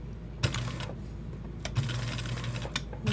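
A sewing machine with a universal needle and matching thread back-stitches through felt for a doll's leaf bag, giving short mechanical whirring bursts separated by pauses, close and fairly quiet.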